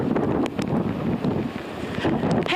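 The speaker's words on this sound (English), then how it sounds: "It's really windy out there." Loud, gusty hurricane wind buffets the microphone with deep rumbling and rushing noise, continuous throughout with brief surges.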